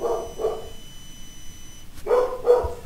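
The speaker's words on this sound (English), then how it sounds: "Can you please ignore the barking?" A pet dog barks nearby indoors during a livestreamed game session: two loud barks, a gap of silence, then two or three more sharp barks close to the microphone.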